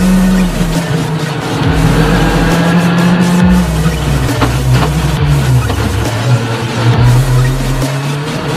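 A rally car driven hard during a night test for the British Rally Championship Jim Clark round, its loud engine droning close up and rising and falling through gear changes.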